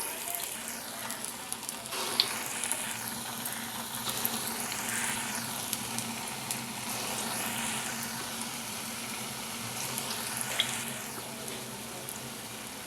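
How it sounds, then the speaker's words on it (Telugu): Mung bean purnalu dumplings frying in hot oil, a steady faint sizzle and bubbling that runs throughout with a few small pops, no voices over it. "ఒక్కొక్కటి తీసుకుని ఇలా పిండిలో ఉంచేసి ఆయిల్లో వేసేద్దాం"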